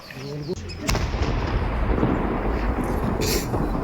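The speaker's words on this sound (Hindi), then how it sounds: "आप इस धमाके की आवाज जरा सुनिए जब इसे डिफ्यूज किया गया।" Bomb set off during a controlled defusal, a sudden loud blast just before the one-second mark that gives way to a long, heavy rumbling roar lasting several seconds, with brief voices heard at the start.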